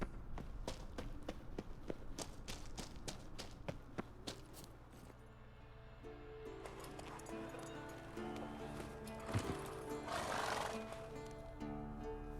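Roach the horse from The Witcher 3 whinnies amid rhythmic hoofbeats, a clear neigh rising over galloping clip-clop, with music-like tones running underneath.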